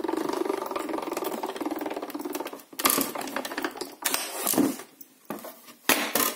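A die-cutting machine pressing a large craft die through its rollers, a steady mechanical whir and rattle for about three seconds, then bursts of clatter and shuffling handling noise, close and fairly loud.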